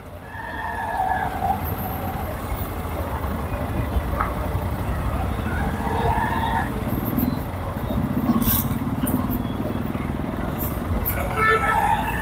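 Motorcycle weaving through dense road traffic on a bike trip toward Mumbai, a steady engine drone mixed with surrounding car noise, passing horns and a rider talking over it.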